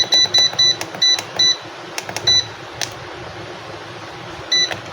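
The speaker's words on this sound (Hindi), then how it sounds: "अलार्म बजने लग गया।" An automatic egg incubator alarm gives bursts of sharp electronic beeps, several quick clusters in the first two seconds, then a lone beep and a final burst, loud and close with no talking.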